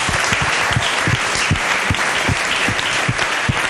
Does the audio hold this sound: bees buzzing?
no